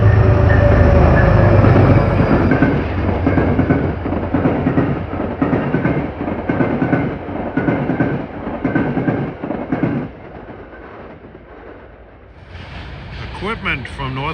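A Metro-North Danbury train passes close by, a loud rumble with rhythmic wheel clatter over the rails that fades away toward the end.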